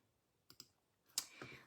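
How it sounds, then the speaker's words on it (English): A few soft keystrokes on a computer keyboard, two light taps followed by a slightly louder cluster of clicks, close and quiet with no talk. "I'll just bring in my keyboard and I'll grab that link again"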